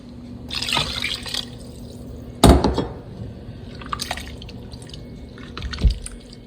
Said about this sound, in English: And I'm going to add about 4 cups of water.